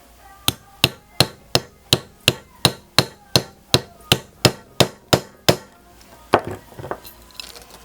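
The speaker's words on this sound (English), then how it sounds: "the top, and I'm just going to hammer it down." About fifteen sharp, evenly spaced hammer strikes on a metal rivet setter fixing a rivet in a leather key ring, loud and close, followed by a few scattered clinks and handling noises.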